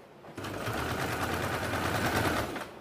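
A sewing machine stitching a buckram collar, running steadily at close range with a fast, even rattle of needle strokes for a little over two seconds after starting abruptly.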